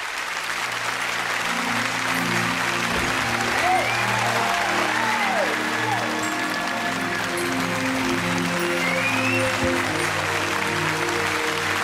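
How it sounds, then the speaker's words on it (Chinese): A studio audience on a television interview show claps warmly and without a break, with music playing underneath and a few voices rising over the applause. "掌声有请欣欣。"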